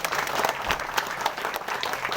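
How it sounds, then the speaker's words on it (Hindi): A village crowd at an election meeting claps loudly to welcome a panchayat samiti candidate, a dense, steady burst of applause lasting a couple of seconds. "जोरदार ताली बजाकर इनका स्वागत करें।"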